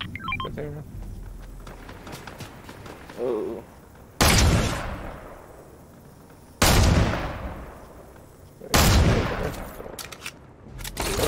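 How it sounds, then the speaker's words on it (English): Gunfire in a Fortnite duos match: three loud, sharp shots spaced a couple of seconds apart, each with a long ringing tail, over a low bed of game ambience. "Someone's shooting"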